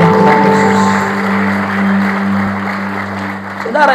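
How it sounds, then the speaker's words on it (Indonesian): A church congregation applauds in praise of Jesus during a sermon, steady clapping spread across the room over sustained musical tones, swelling near the end. "Beri tepuk tangan terbaik untuk Tuhan Yesus."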